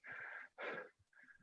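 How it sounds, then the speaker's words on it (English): Someone gasps for air after a strength and conditioning workout, three short, faint, rasping breaths close to the microphone, with no talking. "Where's the heavy breathing?"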